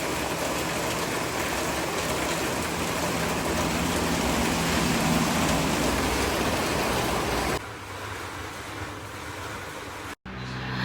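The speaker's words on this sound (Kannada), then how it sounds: "ಅಷ್ಟು ಮಳೆ ಬರ್ತಾ ಇದೆ" Heavy monsoon rain pours down steadily in Ankola, a dense, unbroken hiss that fills the scene for most of the clip before easing slightly and dropping out for a moment near the end.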